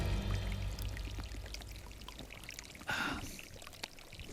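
Muddy water trickles faintly through a camping water filter at Bryce Canyon, with a brief louder gush of flow near the middle and small drips around it.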